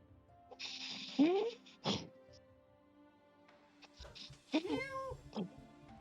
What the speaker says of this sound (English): That's the cat because he's bothering me.